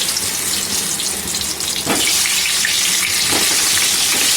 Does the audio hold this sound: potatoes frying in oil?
yes